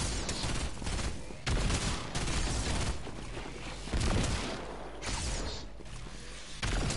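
Rapid bursts of gunfire from the video game Fortnite, several loud volleys of automatic shots separated by brief pauses, with no talking over them.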